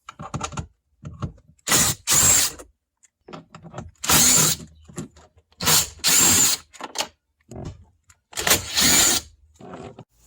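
A power drill spins out four 12mm bolts from a car radio panel, each in a loud close whirring burst separated by pauses, with quieter ratcheting and clicking handling noises in between.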